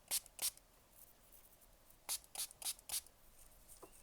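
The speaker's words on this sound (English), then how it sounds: "I'm going to use one of my little sample sheets of paper. I'm going to spray it on" Several short, soft spray bursts of scent onto a paper sample sheet hiss close by, a pair first, then a quick series of four after a pause, in a quiet room.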